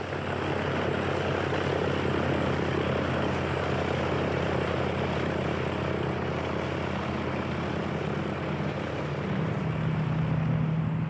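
Loaded WW2 bomber planes take off one by one, a loud, steady propeller engine roar filling the whole stretch without a break, the pitch shifting slightly near the end.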